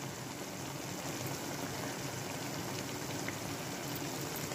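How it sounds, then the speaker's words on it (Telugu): Crab curry boiling in a pot, giving a steady, even bubbling hiss that runs unbroken and fairly faint throughout, with no voices. "ఉడుకుతుంది కదా"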